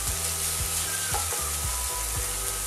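Shallots sizzle and fry in a pan, a constant close hiss broken by a few soft scraping stirs.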